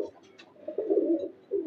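Breeding pigeons coo close by in a loft, a soft low rolling call repeated in two short bursts, with a few faint chirps at the start.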